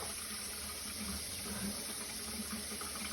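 Tap water runs steadily into a kitchen sink during puff pastry making, a continuous close hiss and splash with no talk.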